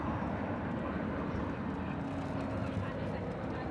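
An Envoy jet takes off at Dallas/Fort Worth Airport, a steady broad engine roar at moderate distance, with radio chatter faintly underneath.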